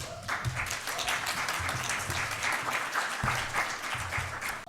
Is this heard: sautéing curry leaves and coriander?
no